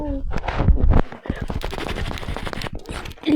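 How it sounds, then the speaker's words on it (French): Rapid bursts of automatic gunfire from a ranked gun game match, sharp repeated shots in clusters filling the clip, with a player's voice talking intermittently underneath. "le Dynamite qui rate toutes ses balles"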